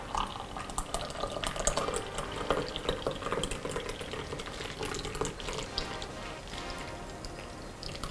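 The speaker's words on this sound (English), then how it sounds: "All right, let's pour it in." Rose milk tea pours steadily from a shaker with a thin, continuous splashing and trickling, close by, with no talking.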